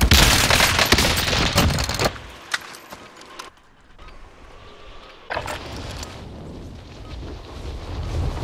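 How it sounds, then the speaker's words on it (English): In Call of Duty: Modern Warfare, a loud burst of blasts and crackling fire is followed by a muffled lull, then another sharp impact and rumbling combat noise returns. "Stun grenade out!"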